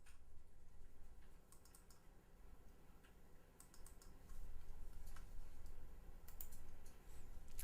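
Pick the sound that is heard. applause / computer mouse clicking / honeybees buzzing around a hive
computer mouse clicking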